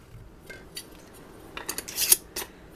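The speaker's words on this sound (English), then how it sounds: "We're going to put our rings on here, fingertip tight," Metal rings screwed fingertip tight onto glass canning jars of taco soup, a few light clinks and scraping metallic twists, close and quiet, building to sharper clicks near the end.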